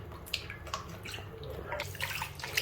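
Yarn being submerged, squeezed and washed by hand in a basin of water before natural madder dyeing, giving soft continuous sloshing and dripping with small splashes, close and fairly quiet throughout.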